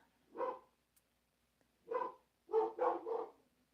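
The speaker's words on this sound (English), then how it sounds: "Excuse my dogs, they have opinions." Dogs bark indoors in the background, one bark followed by a pause, then a burst of three quick barks, moderately loud with no talk over them.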